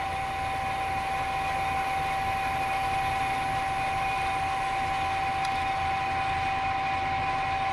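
An automatic screw machine cuts 5/16 brass hex bar stock into packing nuts, a steady mechanical drone with sustained tonal whines and a faint brief tick, loud and continuous throughout.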